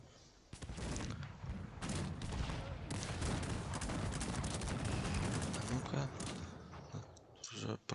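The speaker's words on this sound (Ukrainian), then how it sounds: "Гарматна перестрілка" Cannon exchange of fire in the video game Cossacks 3: a dense, continuous roar of overlapping booms and battle din, loud and sustained throughout, with small dips near the end.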